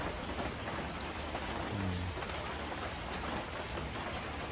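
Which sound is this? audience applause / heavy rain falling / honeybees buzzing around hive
heavy rain falling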